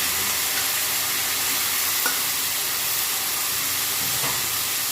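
Chopped gongura leaves sizzling in hot oil in a pan with a little water, a dense continuous hiss with occasional faint stirring clicks, close and steady.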